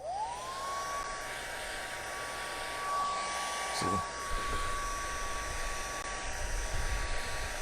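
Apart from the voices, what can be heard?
hair dryer blowing on paint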